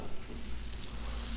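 Butter and oil sizzle on a Blackstone griddle in a close, even, crackling hiss that holds steady throughout with no talking.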